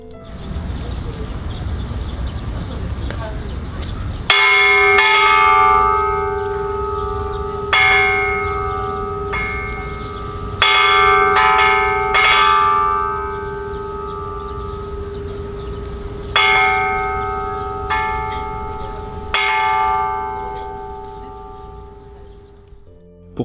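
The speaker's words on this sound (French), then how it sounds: "Le monument est aussi muni d'une cloche que je vais aussi vous faire écouter." Bell of the Hiroshima peace monument, struck six times at uneven intervals, each strike ringing loud and clear with a long humming decay over faint outdoor background.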